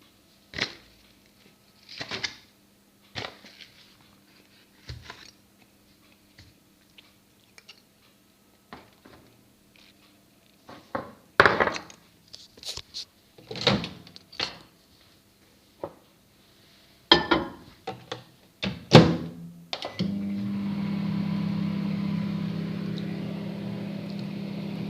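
A microwave oven cooks a Nutella mug cake in a home kitchen. Scattered clicks and handling knocks come first, then the oven starts a steady, droning hum that runs alone through the last five seconds.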